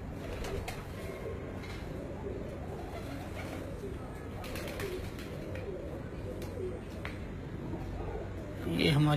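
Pigeons perched on a rooftop cooing softly in the background, a faint low murmur that runs under steady ambient noise and someone talking, with a louder burst near the end.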